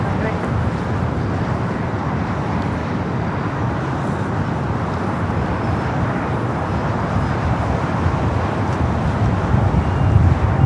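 A Singapore airliner rolls down runway 24 left at LAX, a broad, steady jet roar heard from a distance that swells slightly toward the end.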